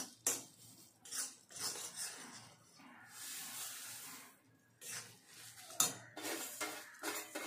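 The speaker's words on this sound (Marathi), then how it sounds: "आणि तीळ घातल्यानंतर पटकन मिक्स करून घ्यायचे" Sesame seeds stirred quickly into hot jaggery in a pan, faint scraping and clinking strokes in bursts with brief pauses, close and quiet.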